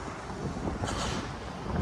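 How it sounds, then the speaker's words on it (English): Wind buffets the microphone in a continuous low rumble, gusting steadily throughout with no voices. "it is windy today"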